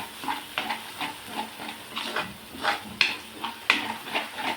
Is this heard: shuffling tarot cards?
no